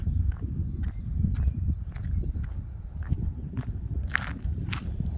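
Footsteps walking outdoors toward a water spinach patch in Norway, a steady run of soft crunching steps close by over low rumbling background noise.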